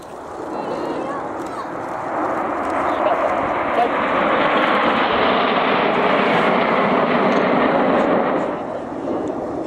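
Red Arrows, the Royal Air Force aerobatic team, arrive at the Cotswold Airshow as a loud, sustained jet roar that swells and holds for several seconds before easing slightly, with crowd noise underneath.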